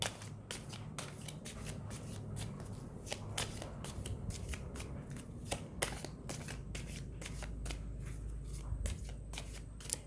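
Tarot cards being shuffled by hand, close and quiet, a rapid run of crisp riffling slaps and flicks in irregular bursts throughout, with no talking.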